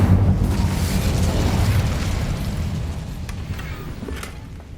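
A fiery Incendio spell blast in Hogwarts Legacy on PS5: a loud, close burst with a heavy low rumble that slowly fades over several seconds, with no voices.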